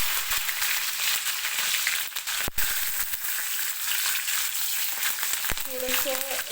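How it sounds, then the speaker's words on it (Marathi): Garlic fries in oil with cumin seeds and curry leaves, a close, steady crackling sizzle with two sharp utensil knocks against the pan. "लसूण जो आहे तो एकसारखा तेलामध्ये तळला जाईल"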